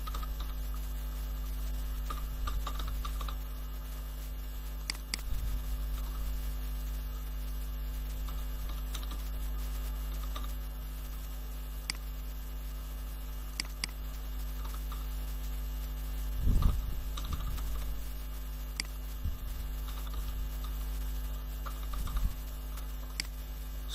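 Sparse, faint keystrokes on a computer keyboard while working in an Excel spreadsheet tick out irregularly over a steady low electrical hum in a quiet room.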